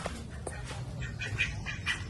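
Ducks bathing in water, with intermittent quacks and squawks over a steady low rumble of background noise, moderately close and fairly faint.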